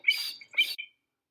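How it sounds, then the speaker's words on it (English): Two short, sharp calls of an American avocet, close and loud, each a bright piercing squawk, with no other sound between or after them. "American avocet."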